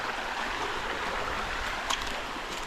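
A river stream on a rural farm lot runs steadily with a broad, constant rush of flowing water, close and even throughout, with no voices.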